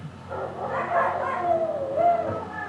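Dogs barking and yipping indoors at moderate distance, a few whiny barks and whimpers over a couple of seconds with faint background noise.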